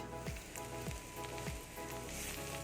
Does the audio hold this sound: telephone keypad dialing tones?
no